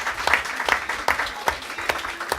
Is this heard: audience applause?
yes